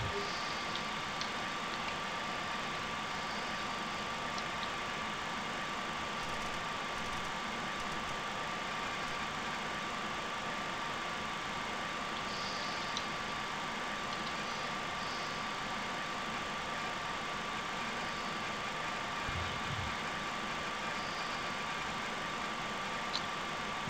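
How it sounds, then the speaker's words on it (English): A steady, even engine drone from an airliner throttled back to idle in a flight simulator game, holding a constant hum throughout with a faint high whine and a few soft clicks. "I'm gonna disconnect my auto throttle. And just go back to idle."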